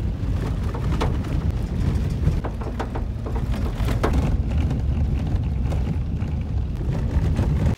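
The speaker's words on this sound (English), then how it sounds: "Rainy day for a hike in the woods," Rain falls steadily on a wooded trail beside a harbor on a wet autumn hike, with a constant patter and a few sharper drips and splashes heard up close.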